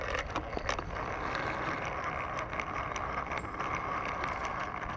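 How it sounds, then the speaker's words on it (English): A Vanquish H10 RC crawler with a Hobbywing Fusion SE brushless motor creeps along slowly outdoors, giving a low continuous hum mixed with crunching terrain and small scattered clicks. "a clear example of slow crawling with the Hobbywing Fusion SE"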